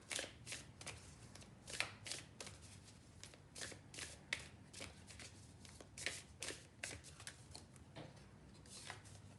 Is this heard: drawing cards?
yes